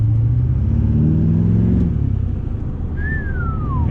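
A Duramax LB7 diesel pickup truck with a new tune accelerates under a steady deep engine rumble that rises in pitch, heard from inside the cab with a faint whistle near the end.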